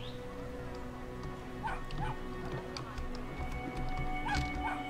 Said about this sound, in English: How do I get a little puppy dog free,